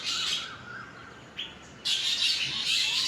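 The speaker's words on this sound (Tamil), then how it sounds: "அது இல்லாமல் நம்ம அங்கே ஒரு குயில் கற்றுக்குது சைடில், அங்கே சைடில்." Birds call in a garden, including an Asian koel, with bright chirps and tweets rising and falling in bursts, moderately close and with no voices.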